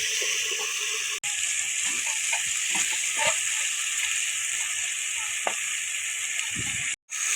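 Ripe papaya chhokka fries in a pan with a bright, continuous sizzle and occasional soft stirring scrapes. The sizzle cuts out briefly twice.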